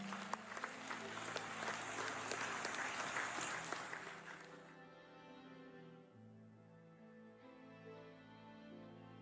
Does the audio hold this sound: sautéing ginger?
no